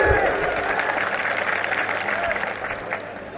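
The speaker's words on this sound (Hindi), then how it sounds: "तो ताली बजाओ भैया" Crowd at a political rally clapping steadily and densely for several seconds, a continuous wash of hands that holds level throughout, with faint voices mixed in.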